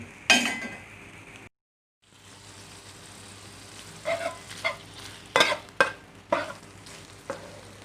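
Pork stir-fried with termite mushrooms and curry paste in a pan, giving a steady sizzle with sharp scraping stirs and clinks of the spatula repeating near and loud after a brief silent gap.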